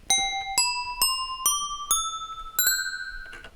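Six bright synth bell notes strike one after another, each a little higher than the last, ringing with a chiming doorbell-like tone and short decays.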